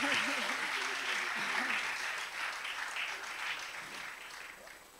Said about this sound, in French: Acclamez le Seigneur pour répondre à sa salutation